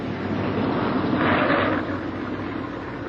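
A B-17 Flying Fortress bomber with a badly injured pilot makes a rough landing, its propeller engines a loud, dense roar that swells to a peak midway and then eases off slightly.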